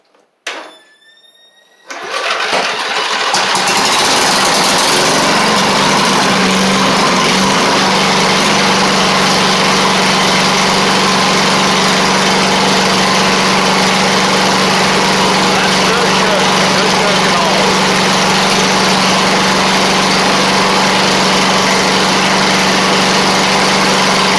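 Briggs & Stratton V-twin engine on a Poulan Pro riding mower cranking briefly, catching and then running steadily with a loud, close, buzzing drone that holds at an even pitch throughout.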